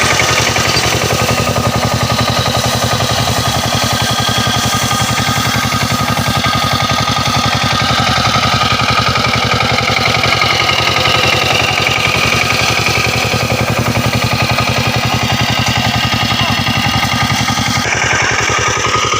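A power tiller engine runs hard during paddy threshing in a rice field, a loud, rapid, relentless mechanical chatter and roar that holds steady and close the whole time, changing slightly near the end.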